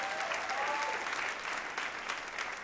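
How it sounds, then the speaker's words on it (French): A church congregation applauds, a dense, steady roar of many hands clapping that fills the room throughout. "Que ceux qui sont prêts à ça applaudissent"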